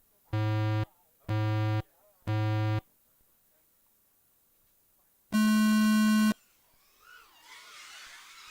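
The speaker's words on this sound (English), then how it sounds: "I'll give you the beeps." Three short evenly spaced start tones sound for an FPV drone race, followed after a pause by a single longer, higher go tone, loud and clean, with faint background noise afterward.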